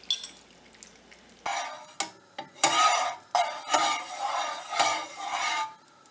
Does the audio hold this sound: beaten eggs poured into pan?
yes